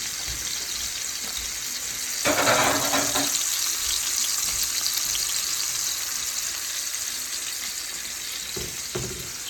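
Fish browns in a frying pan on a turned-down burner, giving a steady close hiss of sizzling oil that swells into a louder crackling burst early on and flares briefly again near the end, with no talking.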